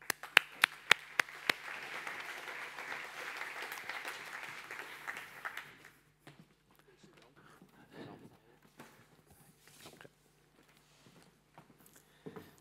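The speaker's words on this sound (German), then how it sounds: "bitte euch um einen herzlichen Applaus für Thomas Ramseyer" An audience at a lecture applauds speaker Thomas Ramseier, with a burst of sharp claps that swells into dense applause for several seconds and then stops abruptly, followed by quiet room noise, faint shuffling and a few stray sounds.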